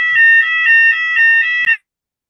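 A building fire alarm sounds during its weekly Wednesday test, a loud, piercing electronic tone pulsing steadily for under two seconds before cutting off abruptly, with no talk over it.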